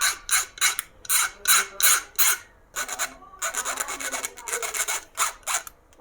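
Metal syringe tip being filed or sanded with sandpaper to make a mehndi applicator, heard as a series of close, rhythmic rasping strokes, roughly a dozen back-and-forth scrapes with short pauses, no talking.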